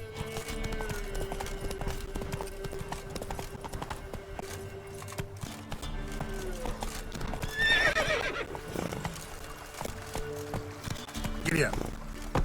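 A horse in The Witcher 3 galloping with steady hoofbeats and letting out loud whinnies twice, amid game music, with a voice speaking over it.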